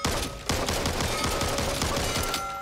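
Rapid rifle fire in 7.62 calibre from the video game Back 4 Blood crackles as a dense, continuous burst of loud shots for nearly three seconds, with a brief gap at the start.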